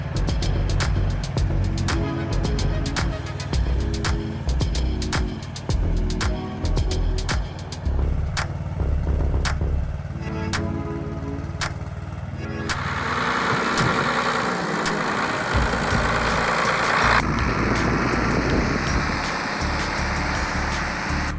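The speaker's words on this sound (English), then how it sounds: "The 40-horsepower engine roared in the cold air." A 40-horsepower T16 tractor engine rumbles and roars steadily up close in cold air, a deep continuous drone with rattling clicks, shifting to harsher, louder revving partway through.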